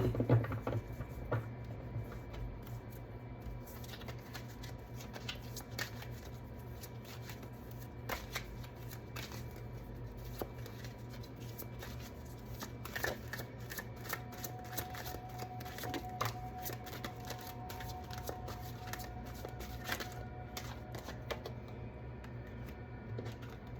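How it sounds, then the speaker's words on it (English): Playing cards are shuffled for a card reading, a steady soft riffling patter running throughout at low volume with occasional sharper flicks and a faint background hum. "let's see what these cards have to say."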